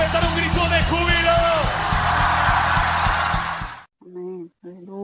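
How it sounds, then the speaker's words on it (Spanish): A church congregation erupts in loud, sustained shouts and cheers of joy during a worship service, the mass of voices filling about four seconds before cutting off, followed by a lone speaking voice. "puedes dar un grito de júbilo?"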